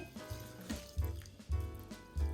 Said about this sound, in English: 1 can of water from the tomatoes. I'm gonna add that to it.